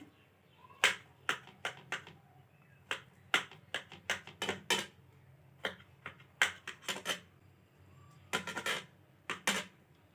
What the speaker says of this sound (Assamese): এতিয়া বেঙেনাটো মই এনেদৰে অকণমান কাটি ল'ম